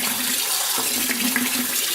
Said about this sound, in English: First, we're gonna rinse it with tap water.